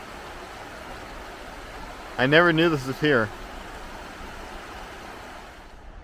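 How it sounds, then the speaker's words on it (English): Steady rushing water from the waterfalls of Fishpot Creek in Valley Park, Missouri, fills the background, with a person briefly speaking over it partway through. "Here's the beautiful waterfalls of Fishpot Creek."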